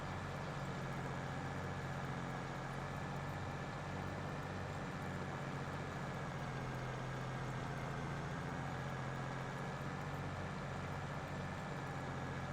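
In Farming Simulator 22, an old John Deere 9620 tractor pulls a 2680 high-speed disc across a field, its engine giving a steady, unbroken diesel drone throughout with no talk.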